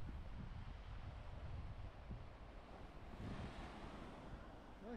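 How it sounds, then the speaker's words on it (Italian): Rough sea at El Fanar beach in Sharm el Sheikh, with waves surging and crashing in a continuous roar, heavy wind buffeting the microphone, and no talk. "Guarda che mare mosso che c'è oggi."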